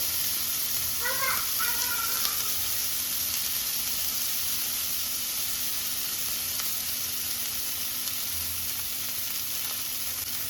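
Adana kebab frying in butter in a pan, a steady close sizzle and hiss running throughout, with a few faint stirring scrapes and brief background voice traces.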